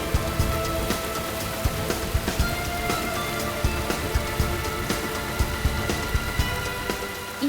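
Steady rain pours down over a surface with dense, continuous patter and occasional heavier drops, loud and close, with no voices.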